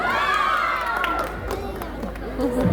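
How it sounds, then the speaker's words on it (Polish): A large outdoor crowd at the WOŚP grand finale concert in Warsaw cheers and claps steadily for a couple of seconds, with shouting voices mixed into the dense, loud roar. "Wielkie brawa, gdyby raz na jeszcze jeden."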